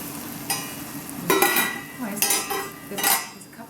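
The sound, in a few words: stirring wine in a pot for fish pie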